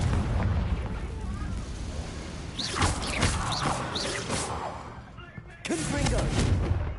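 Booming Confringo blasting-curse explosions go off repeatedly in a Harry Potter video game, several dense bursts with crackling tails stacked over a constant rumbling backdrop, while a voice shouts over them at close range.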